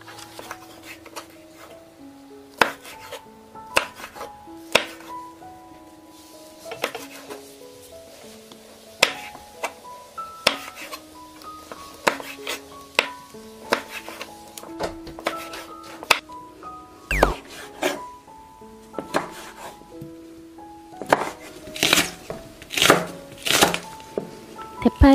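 A knife chops red and cheongyang chili peppers on a cutting board, giving irregular sharp knocks of varying loudness, quieter early and denser with harder strikes toward the end.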